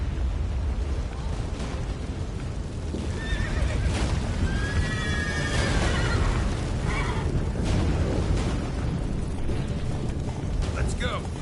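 A horse whinnies in a high, wavering call over a dense, steady rumble of game noise in The Witcher 3: Wild Hunt, with hoofbeats clattering along underneath.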